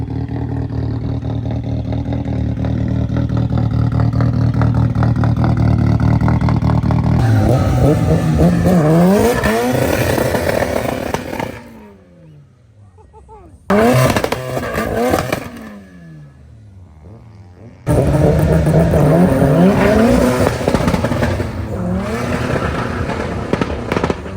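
Cars revving and accelerating hard at a Scottish drag race, a Vauxhall Astra among them, with loud engine roars rising and falling in long bursts, a brief near-silent gap midway, then more close, sustained acceleration.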